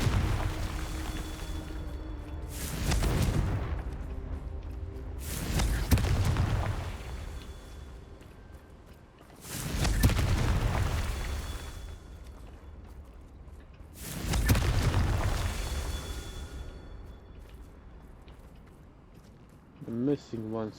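Confringo blasting-curse explosions go off in the video game Hogwarts Legacy as four heavy, rumbling booms spaced a few seconds apart, each swelling and fading, with a final crackle and speech mixed in.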